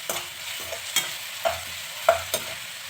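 Garlic ginger paste fries in a pan for a mushroom, pea and cauliflower curry, with a faint sizzle under several distinct spoon scrapes and taps from stirring, close by.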